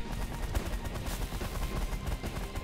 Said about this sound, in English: Miniguns to the face